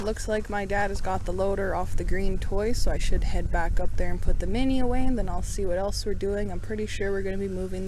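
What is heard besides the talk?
No everyday noise stands out behind the speech.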